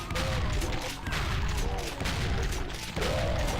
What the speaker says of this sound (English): let's shoot some more bad guys